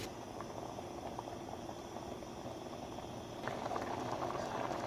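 Pot of rice water boiling on high heat, a steady dense bubbling hiss that swells slightly louder toward the end, heard alone at moderate volume.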